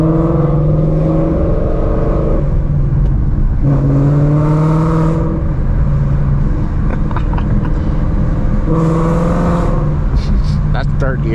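Ford Mustang running on E85 accelerating hard through the gears on a winter night drive, a loud steady engine drone with rising and falling harmonic pitch as it climbs through each gear and shifts, heard from inside the car.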